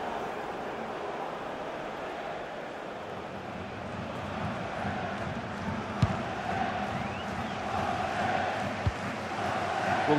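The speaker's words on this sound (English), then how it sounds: "Well, just listen to this crowd." A football stadium crowd at a Bradford City versus West Ham United cup match, a broad, steady roar of many voices heard from a distance, with a couple of brief sharp knocks.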